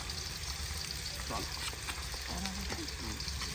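Onions frying in a pan for kadi pakoda, a steady close crackle and hiss with a few faint clicks of a utensil underneath.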